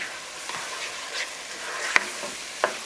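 Cabbage frying in a pan is stirred, giving a soft continuous sizzle with a few light scrapes and two sharper clicks of the utensil against the pan, close up and alone.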